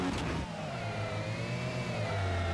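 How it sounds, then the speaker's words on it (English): A touring car engine in the racing game SEGA Touring Car Championship drones and revs steadily, its pitch rising and falling continuously at fairly loud, even level with no speech. "these are real engine noises you're hearing"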